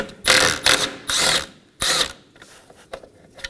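A ratchet takes out the bolts holding the horn assemblies on a 2015–2023 Nissan Maxima. It makes close, loud bursts of rapid clicking, three in quick succession and then another after a short pause, followed by lighter taps.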